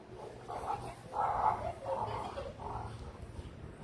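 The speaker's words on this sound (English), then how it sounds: "There's some dogs." Dogs barking outdoors along a small-town main street in Wauconda, Illinois, several muffled barks spread across a few seconds, distant and faint under general outdoor noise.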